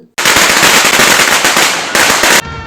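A string of firecrackers bursts in a film scene as a loud, dense crackling barrage of rapid pops lasting over two seconds.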